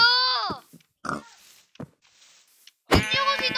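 A Minecraft pig in a flat world lets out short, close grunts and squeals in a few separate bursts with brief silences between, and game clicks and dings mixed in.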